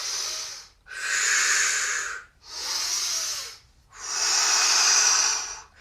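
Deep breathing during chair yoga: four long, loud, airy breaths in and out, close to the microphone, separated by brief pauses.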